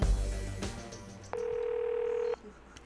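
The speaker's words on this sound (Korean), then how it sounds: "제작진은 사이트에 고지된 전화번호로 전화 연결을 시도해봤다" Faint clicks and line noise give way to a single steady telephone tone held for about a second as a number is being called, then the line drops back to quiet hiss.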